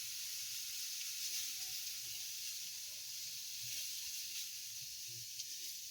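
Freshwater mussels gathered from a pond cook in a pan, giving a steady, fairly quiet frying sizzle with a hiss that holds unbroken throughout.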